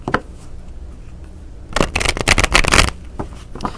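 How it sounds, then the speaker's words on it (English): A deck of tarot cards shuffled by hand, a quick riffling burst of flapping card sounds near the middle, close and clear over a quiet room. "let's go ahead and pull some tarot cards"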